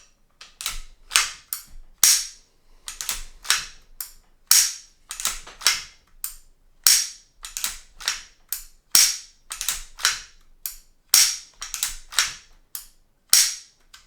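An Umarex T4E paintball pistol trigger is pulled over and over, each pull ending in a sharp snap followed by a quieter reset, in a steady, evenly spaced rhythm with no voices.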